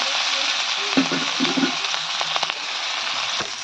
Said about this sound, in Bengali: তো মাছ ভাজা হয়ে গেছে